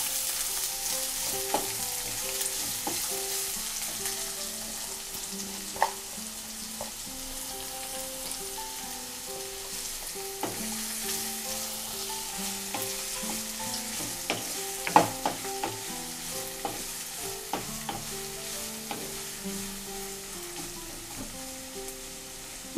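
Onion pieces fry with dried red chillies in hot oil for a coconut pulusu, a steady, close crackling sizzle broken by occasional stirring clicks, with a faint melodic background running underneath.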